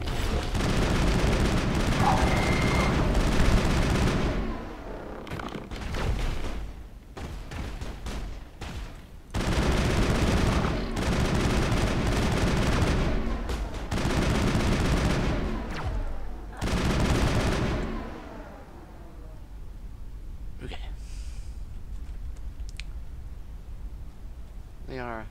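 Mass Effect combat gunfire, loud sustained bursts of automatic fire broken by short lulls, with some booming impacts, before fading to quieter ambience.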